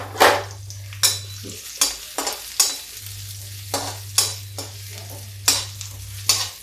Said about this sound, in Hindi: इसी घी में पहले हम फ्राई कर लेते हैं।